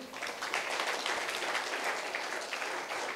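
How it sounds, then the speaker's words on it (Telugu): Applause from an audience in a government intermediate college hall, a continuous dense wash of many hands clapping at steady volume, with no break. "చప్పట్లు కొట్టండి సార్."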